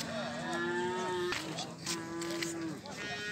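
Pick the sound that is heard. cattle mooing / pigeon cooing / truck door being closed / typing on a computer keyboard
cattle mooing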